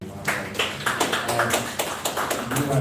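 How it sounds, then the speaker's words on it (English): Audience at a Startup Lagos live event clapping for a speaker, a steady broadband patter of many hands with sharp individual claps standing out, fairly close and sustained across the moment. "Round of applause for Emmanuel."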